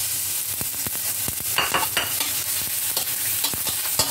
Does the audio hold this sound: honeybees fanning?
no